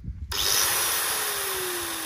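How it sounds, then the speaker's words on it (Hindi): Electric drill machine kicks in after a short pause and runs at full speed, a loud steady high-pitched whine with a constant motor tone, close and alone. "ये है अपनी ड्रिल मशीन"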